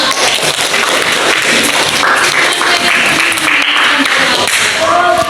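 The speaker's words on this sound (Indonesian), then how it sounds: "Oke, tepuk tangan." A classroom of students applauding, with dense, steady clapping that stays loud and even throughout without pause.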